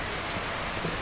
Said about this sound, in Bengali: আর এদিকে বৃষ্টি